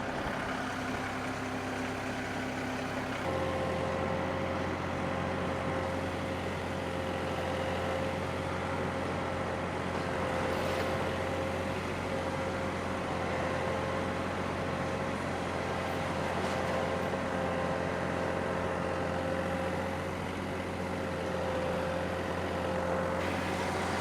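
A tractor drives over uneven, unworked ground with a PTO-driven power rake grading the soil, giving a steady, loud engine drone with a constant low hum and a sustained mid-pitched whine throughout, no talking.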